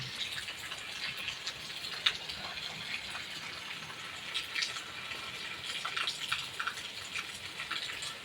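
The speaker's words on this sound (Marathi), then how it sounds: "बघता बघता चांगलाच पाऊस आलाय" Rain falls outdoors as people gather for a village function, a steady soft hiss of drops that holds evenly throughout with no voices.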